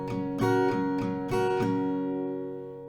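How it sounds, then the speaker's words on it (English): Acoustic guitar strumming a slow series of even downstrokes on a chord for a song, the strums close and bright, with the final chord left ringing out and fading. "now it will be 8 downs in total, but the strumming will sound like this, a little bit slower."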